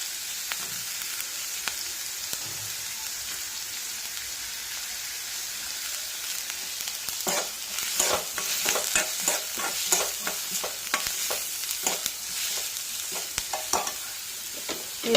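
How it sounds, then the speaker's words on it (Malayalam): Onions and chopped green chillies sizzle and fry in a pan for a Kerala drumstick stir-fry, with a steady hiss and scattered crackles and stirring clicks that grow busier in the second half; no one speaks. "സവാള ഏകദേശം വഴന്നു വരുമ്പോൾ അരിഞ്ഞു വെച്ചിരിക്കുന്ന പച്ചമുളക് ഇട്ട് കൊടുക്കാം."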